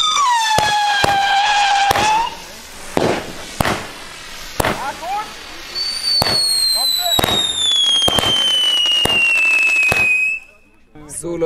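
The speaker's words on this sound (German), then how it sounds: "Weiter geht es mit der Flower Power Batterie" A Flower Power firework battery sets off on a street at New Year's Eve, firing a rapid series of sharp cracking bursts with whistling, rising shrieks layered over them, loud and close, ending abruptly; a voice talks briefly.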